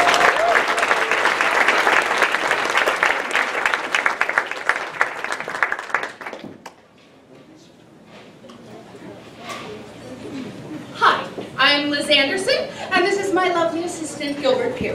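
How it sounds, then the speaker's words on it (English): A crowd at a theatre awards ceremony applauds loudly for several seconds, then the clapping fades and a person starts speaking, with a few chuckles from the audience. "big round of applause for these four fine theaters"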